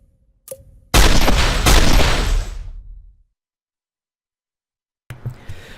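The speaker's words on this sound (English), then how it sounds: "let's see what her gunshots sound like" Elsa Bloodstone's guns firing in the Marvel Avengers Alliance game: one sharp shot, then a loud, dense burst of rapid gunfire that fades out over about two seconds. Silence follows, then a brief softer game sound at the end.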